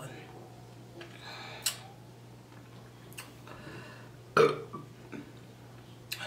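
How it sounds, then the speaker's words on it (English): A woman burps during an eating session, short burping sounds scattered over several seconds, one louder near the end, against low steady background hum with little talk. "These burps don't want to come out right now."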